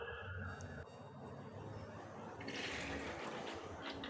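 Water splashes and pours steadily into a pressure cooker, a broad rushing wash that grows brighter and louder partway through.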